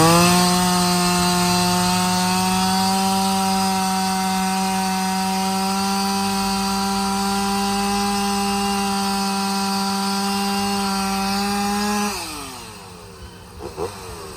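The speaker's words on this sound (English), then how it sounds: "cutting the stumps off" A saw cutting off tree stumps holds a steady, droning whine at constant pitch for about twelve seconds, then spins down and falls away, leaving scattered faint knocks near the end.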